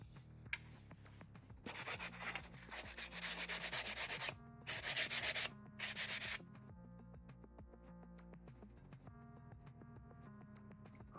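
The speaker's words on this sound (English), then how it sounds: "I guess it is an oscillating spindle sander." An oscillating spindle sander runs with a steady motor hum in a workshop, while a workpiece pressed against it produces several bursts of loud rough sanding between quieter stretches.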